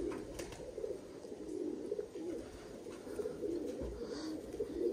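A domestic pigeon of the Aliwala breed coos softly and steadily, a low murmuring burble that runs without break for the whole stretch, close by and moderately quiet, with no talk over it.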